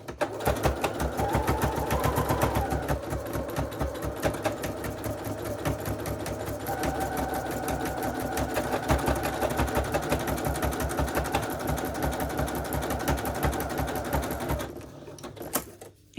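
A sewing machine stitches a fancy decorative buttonhole, a steady fast mechanical whir and tapping that runs close and continuous before stopping near the end.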